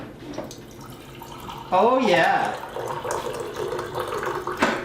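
Water pours from a gravity-fed bottled hot and cold water cooler into a cup, a steady stream starting partway through and continuing near and clear, with a person briefly speaking over it.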